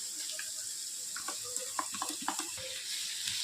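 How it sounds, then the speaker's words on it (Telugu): Boiled cluster beans frying in a pan with coconut powder, a steady soft sizzle with scattered light clinks and stirring clicks close by. "ఇప్పుడు మనం వీటిని బాగా ఫ్రై చేసుకుందాం."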